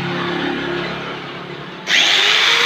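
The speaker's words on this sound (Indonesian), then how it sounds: "Ini saya gerinda dulu kawan." Angle grinder cutting into the valve of an outdoor split AC unit, a steady loud whining grind that jumps sharply in pitch and intensity partway through as the disc bites, close and without speech.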